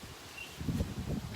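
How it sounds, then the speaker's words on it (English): Wind gusts buffet outdoors, rising from a soft hiss into low, rumbling blustery pushes over a second or so, close and fairly loud. "I'm loving this windy day, but it's not too great for my papers"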